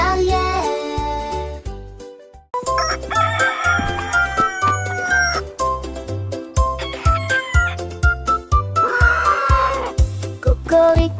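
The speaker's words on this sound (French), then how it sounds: "Cocorico s'est réveillé le premier, c'est presque plein d'énergie." A cartoon rooster crows loudly in a children's nursery-rhyme song, its cock-a-doodle-doo ringing out over bouncy music with a steady bass beat and some clucking.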